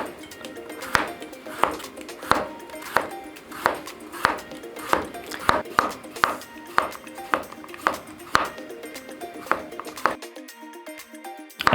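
A knife cuts carrots into very thin, even slices on a cutting board while a Japanese lunch of miso soup and potato salad is prepared. About a dozen crisp, evenly spaced taps come up close, steady and regular.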